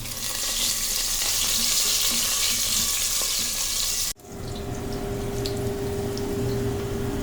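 Potatoes fry in a pan with salt and a little turmeric, sizzling steadily and loudly close up, with a brief sharp drop about two thirds through before a quieter, watery hiss continues.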